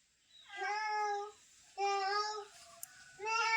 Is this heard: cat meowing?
yes